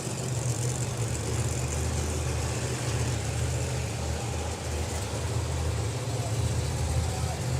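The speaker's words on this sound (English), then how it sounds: "Their engines fire up round the corner." Pro Modified drag racing engines rumble at a steady idle a short distance away after firing up at a drag strip, a dense low growl holding evenly throughout with no clear voices.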